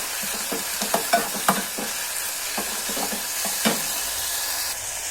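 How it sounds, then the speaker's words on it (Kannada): Fenugreek leaves frying and being stirred in a pan for a fenugreek-leaf dal, a steady close sizzle under repeated scraping and knocking of a spatula against the pan, no talking. "ಸ್ವಲ್ಪ ಚೆನ್ನಾಗಿ ಫ್ರೈ ಆಗಬೇಕು ಮೆಂತ್ಯ ಸೊಪ್ಪು"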